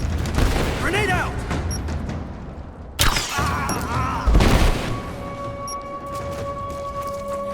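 A grenade blows up in Rise of the Tomb Raider: a heavy, loud boom amid gunfire and shouted voices, then rumbling debris fading into a steady mechanical hum.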